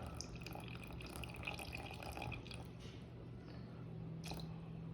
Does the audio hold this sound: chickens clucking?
no